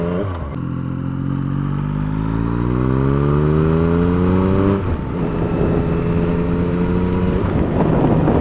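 A 2016 Yamaha FZ-09 motorcycle engine revs up steadily in one gear, rising in pitch, then drops briefly at a gear shift and continues pulling at a lower pitch, loud and close throughout the ride.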